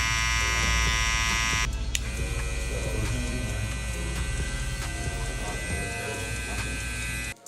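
An Apex cordless hair clipper runs close up, a steady high-pitched electric buzz with a brief dropout near the start, then continuous until it cuts off at the end.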